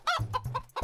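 A cartoon chicken gives a quick run of three or four soft, close clucks in less than a second.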